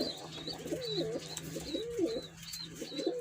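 A young tumbler pigeon coos softly in a repeated, rolling rhythm of several low warbling calls, fairly faint against a quiet background with a steady low hum.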